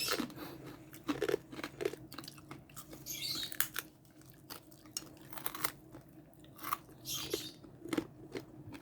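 Close crunching as air-fried lechon belly pork skin is bitten and chewed, crisp crackling bursts recurring irregularly over a quiet background with no talking.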